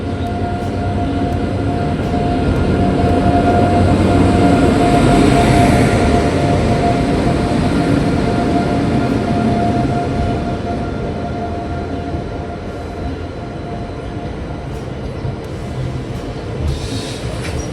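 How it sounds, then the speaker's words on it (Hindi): Passenger train arriving at platform 11 of an Indian railway station, a steady loud rumble with a faint high whine building and then easing slightly as it rolls in, no talk. "प्लेटफॉर्म नंबर 11 पे एक ट्रेन आ रही है"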